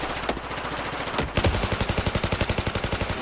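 PDW gunfire in Battlefield 4: a few scattered shots, then a steady, rapid automatic burst that runs to the end, loud and close, with no talking.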